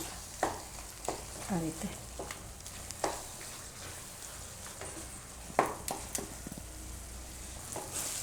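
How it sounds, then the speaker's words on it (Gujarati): Palak paneer bhurji stirred in a pan, with scattered spatula scrapes and knocks over a soft, steady sizzle, and a short stretch of quiet speech. "1 થી 2 મિનિટ માટે વચ્ચે વચ્ચે હલાવી લેવું"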